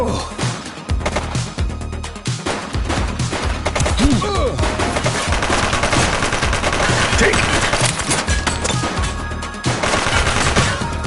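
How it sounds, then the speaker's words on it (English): Dense gunfire from a shootout in the police video game The Precinct, with overlapping rapid shots and bursts running almost continuously at high loudness, broken by brief gaps, with some shouting mixed in. "He's shooting!"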